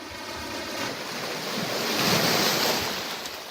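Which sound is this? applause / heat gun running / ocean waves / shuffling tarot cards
ocean waves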